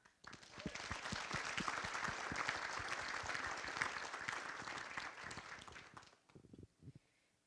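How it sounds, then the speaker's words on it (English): Audience at a community awards ceremony breaks into sustained applause, a dense, even crowd of clapping hands heard at a distance for about six seconds before fading out to a few stray claps. "please join me in giving a well round of applause"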